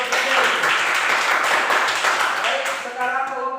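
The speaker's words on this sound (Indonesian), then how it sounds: "tepuk tangan untuk kelompok D" A class of school students claps for a presenting group, a dense burst of applause that fades toward the end while voices chatter beneath it.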